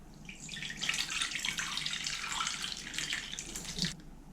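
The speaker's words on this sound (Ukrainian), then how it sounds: "Заливаємо наші котлетки заправкою" A steady, soft stream of half a liter of watery dressing pouring and splashing over meatballs in a baking dish, close and quiet, ending with a brief slosh.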